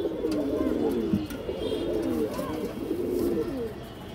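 Army pigeons and other pigeons kept at a dealer's loft coo in low rolling phrases, steady and close, against a constant background hiss.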